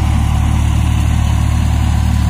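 A tractor engine idles at close range on a wheat farm, a steady low rumble with a continuous even throb and no voices over it.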